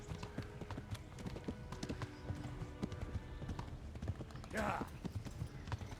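Horse hooves clip-clopping at a steady walking rhythm in the medieval game Kingdom Come: Deliverance, moderately close, with a brief whinny-like burst near the end and someone talking over it.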